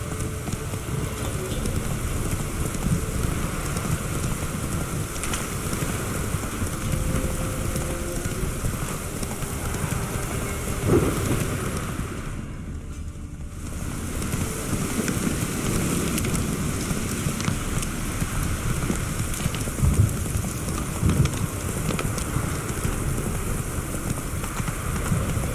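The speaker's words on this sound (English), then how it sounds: "This downpour's a bastard." Heavy rain pours steadily in the video game The Witcher 3, a dense loud hiss with low rumbling underneath, briefly easing for a moment before the downpour returns at full strength.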